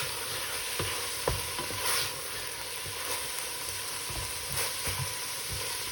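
Capsicum frying on a low flame while being stirred in a pan, with a steady soft sizzle and a few scraping stirs of the spoon.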